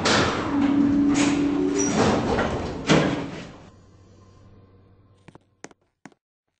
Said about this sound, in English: Door close.